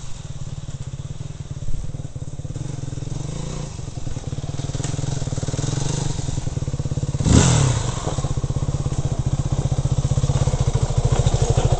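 A motorcycle engine braking in first gear with the clutch out, a steady low throbbing idle-like drone with a brief clunk midway, recorded close with no talk.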